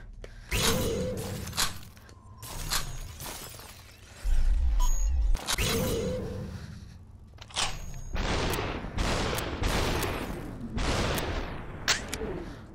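Gunshots in the VR video game SUPERHOT VR ring out as a series of sharp bursts and thuds with shattering, spread irregularly over several seconds, with occasional low booms.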